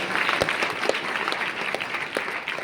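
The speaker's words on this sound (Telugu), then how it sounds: "చప్పట్లు కొట్టండి యేసయ్యకి" A gospel meeting audience claps in a brisk, uneven burst of applause, with individual sharp hand claps standing out over the crowd noise throughout.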